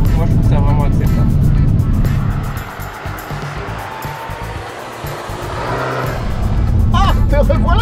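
A Peugeot 308 GTi's turbocharged engine drones on a snowy Nürburgring, loud and up close in the cabin, its pitch shifting as it revs, under continuous French talk from the driver.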